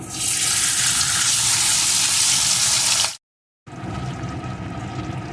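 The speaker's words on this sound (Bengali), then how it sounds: "এখন তেলটা গরম হয়ে গেছে এখন মাছগুলোকে একটা একটা করে দিয়ে" Pabda fish fry in hot mustard oil, a loud, dense sizzling hiss close up that cuts out for a moment, then resumes more softly.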